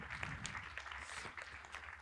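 Faint, distant audience applause in a hall during a science and science-fiction talk session, greeting a sociology doctoral student as she is introduced; a soft, even patter of many hands for a couple of seconds.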